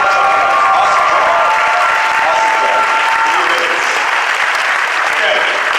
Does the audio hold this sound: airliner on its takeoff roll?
no